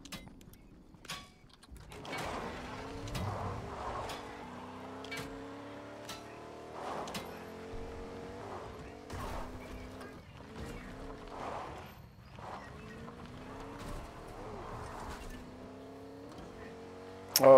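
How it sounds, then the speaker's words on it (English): A truck drives in Fortnite, its engine whining through repeated rising gear sweeps over rumbling mechanical noise, fairly loud and continuous with brief clunks between shifts. "Oh, it's a truck."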